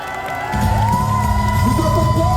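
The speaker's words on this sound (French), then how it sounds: "Tonnerre d'applaudissements, un maximum de bruit" Crowd at a Paris fan festival in 2024 cheering and whooping loudly, a sustained roar that swells after a brief start, with shouts and whistles riding on top.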